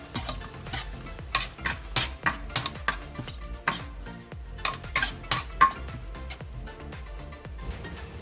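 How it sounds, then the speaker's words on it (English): Vegetables being stir-fried with sriracha sauce and a vegetable stock cube: a utensil scrapes and clatters against the pan in a steady run of sharp strokes under a continuous sizzle, close and fairly loud, with no talking. "After adding the sauce, we'll fry this again nicely."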